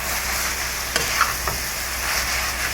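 Chicken frying in Star margarine, a constant close sizzle broken by a few sharp stirring clicks and scrapes of the utensil in the pan, without talk.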